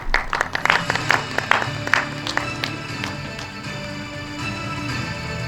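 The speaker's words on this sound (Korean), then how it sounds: "따뜻한 박수로 모시겠습니다." Audience applause at a Korean virtual human industry association general meeting as two association presidents are welcomed on stage, a moderate spread of clapping with sharper individual claps early, fading to a softer patter over background music.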